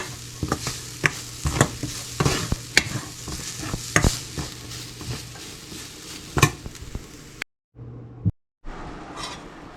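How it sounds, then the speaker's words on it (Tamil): Grated coconut roasts in a pan under repeated stirring, a rhythmic series of loud scraping spatula strokes over a dry sizzle, with brief silent gaps near the end. "தேங்காய்ப்பு எடுத்து கொஞ்சம் வறுப்பம்"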